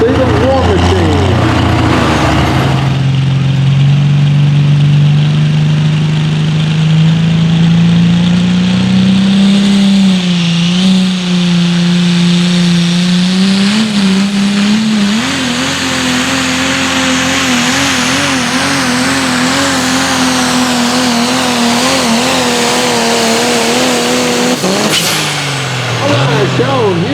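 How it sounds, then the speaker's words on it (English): The Dodge 'War Machine' four-wheel-drive pulling truck from Alamo, Tennessee, revs hard on the Hillsboro track, its engine pitch climbing steadily before settling into a loud sustained roar that ends in a sharp burst. "Hargay was found running that Dodge truck out of Alamo, Tennessee, the War Machine"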